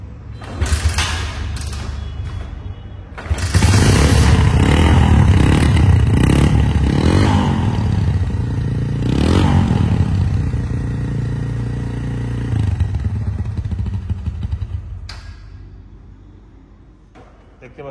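A used motorcycle's engine runs close by at a bike showroom, with a deep steady rumble that swells as it is revved, plus some mechanical clatter, before settling and fading toward the end.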